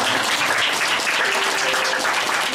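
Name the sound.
church congregation welcoming applause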